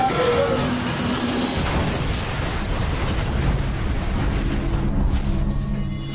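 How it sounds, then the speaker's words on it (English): Flight 2120 crashing into the ground in a fiery explosion: a loud, sustained roar with dense rumbling debris noise that runs steadily for several seconds without a break and with no voices. "The fiery explosion and sudden impact with the ground has all but obliterated Flight 2120."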